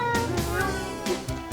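A storyteller's voice imitates a cat's meow in a children's tale about a duck riding a bike, giving a short drawn-out mew over a soft background.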